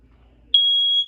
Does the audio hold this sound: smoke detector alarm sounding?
yes